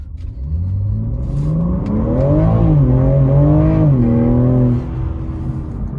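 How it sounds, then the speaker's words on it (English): A 2021 BMW G80 M3 Competition accelerating hard, its engine note climbing steadily through the revs and pitching up, then easing off near the end, loud and close with no talking. "just as fast acceleration just to see how it accelerates"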